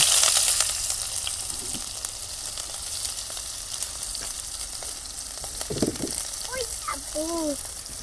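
Onions frying in hot oil for a village-style chicken biryani: a steady sizzle throughout, with a few stirring scrapes and brief faint voice-like tones near the end.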